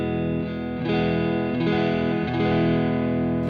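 Jet JS300 electric guitar played through its neck pickup with the volume rolled back, sustained chords ringing with effects and a touch of reverb, steady and close with no talking.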